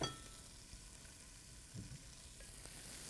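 Leeks sauté in rendered bacon fat with a faint, steady sizzle and crackle throughout, plus a couple of soft stirring bumps, quiet and continuous with no voices.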